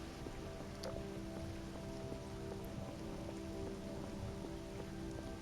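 Steady rain falls in the video game Voices of the Void, an even hiss of drops spread across the whole clip. Low tonal hums sit underneath, and no one talks.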